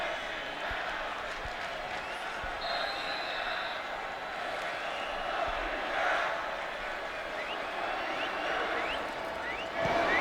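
Crowd noise at a 2015 Texas vs. California college football game before an extra-point try, a broad stadium roar swelling and easing under a commentator's voice, with a few faint whistles and a brief surge near the end.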